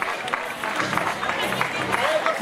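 A crowd at the finish of the Antequera half marathon keeps up steady applause and clapping as runners come in. The cheering is continuous and fairly loud, and an announcer's voice carries over it.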